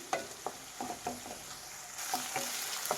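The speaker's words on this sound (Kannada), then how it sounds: "ಒಂದು ಸ್ವಲ್ಪ ಹಸಿ ವಾಸನೆ ಹೋಗೋವರೆಗೂ ಫ್ರೈ ಮಾಡಿ." Ginger garlic paste frying in a pan for tomato rice, a soft steady sizzle broken by a series of sharp scraping strokes of a spatula stirring at a regular pace.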